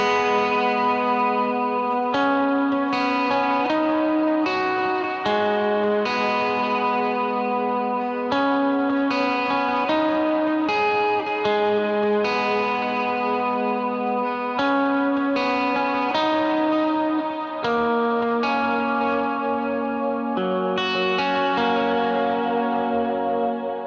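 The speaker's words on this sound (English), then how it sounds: "I'm just running my compressor, a touch of drive, and a dotted eighth delay with a bloom reverb" Electric guitar through a compressor, light drive, dotted-eighth delay and bloom reverb plays a worship song's intro and verse line: sustained, ringing notes with echoing repeats and a wash of reverb, steady and alone.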